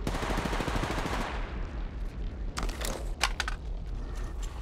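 Rapid automatic gunfire from Apex Legends on Kings Canyon, a dense burst of shots for over a second, then scattered sharper single cracks and short bursts over background battle noise.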